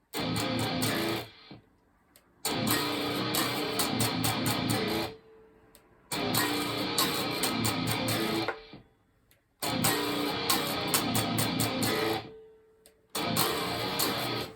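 A heavy, distorted guitar riff played slowly in loud chunky bursts, each separated by a short pause, repeating several times with no talking.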